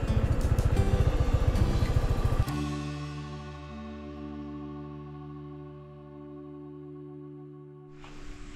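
A motorcycle engine idles with a rapid, even pulse for a couple of seconds and then cuts off, leaving a steady tonal hum that fades before a brief rustle.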